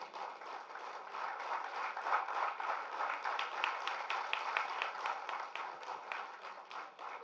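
An audience at a general body meeting claps steadily, a dense patter of many hands at moderate level that carries through the whole stretch with no talk over it.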